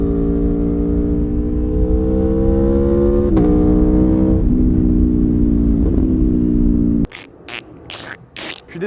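Aprilia Tuono V4 1100cc motorcycle engine, a 175-horsepower V4, roars loud and close in a steady drone whose pitch climbs gradually with a couple of brief shifts, then cuts off abruptly into rough, gusty noise near the end.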